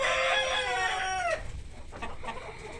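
Backyard hens and a rooster in a crowded coop, kept at one rooster to five hens. A loud, close rooster crow sweeps down over the first second, then clucking and scratchy calls from the hens follow.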